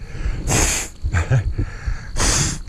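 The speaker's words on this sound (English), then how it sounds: "Blow my nose." Two forceful, hissing nose blows, one at the start and one near the end, with quieter snuffling breaths between, close to the listener.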